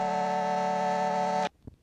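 A tape-loop pattern recorded through a microphone holds a steady, bright, buzzy musical tone for about a second and a half, then cuts off sharply and ends with a soft thump.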